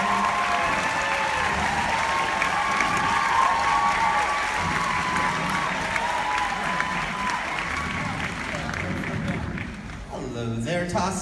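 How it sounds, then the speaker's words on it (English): A large crowd at a Comic-Con convention panel for The 100 applauds and cheers loudly and continuously, a dense wash of clapping and shouts that fades slightly near the end. "I don't know if you heard it because you guys were cheering"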